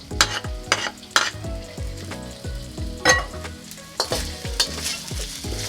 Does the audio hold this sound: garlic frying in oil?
yes